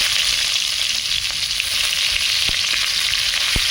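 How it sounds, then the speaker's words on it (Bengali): Chopped onions fry in oil for a fish curry with potatoes, giving a steady close sizzle with a few sharp clicks and pops and no voices. "ভালো করে পেঁয়াজগুলো ভেজে নেব"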